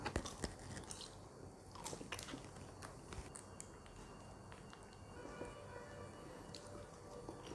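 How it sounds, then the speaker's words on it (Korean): Someone eats McDonald's french fries: quiet, close crunchy bites and steady chewing, with no talk over it. "감튀, 감튀. 감튀 먹어."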